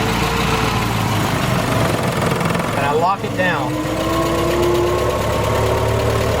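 A 1915 Ford Model T engine runs with a steady, loud, close rumble while someone talks over it briefly.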